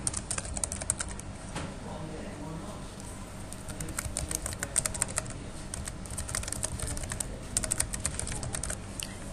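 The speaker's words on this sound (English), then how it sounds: "type in your email address" Keys on a computer keyboard are tapped in a quick, uneven stream while an email address is entered, close up over a steady background hum.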